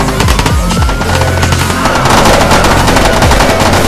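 Machine gun fire in a shooting video game pitting police, SWAT and FBI against soldiers, loud rapid bursts of automatic fire layered with overlapping shots and booms, dense and close.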